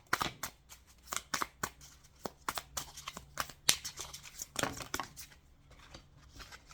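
Tarot cards are shuffled and flipped in a rapid series of crisp riffles and slaps, close and fairly quiet, with no talking.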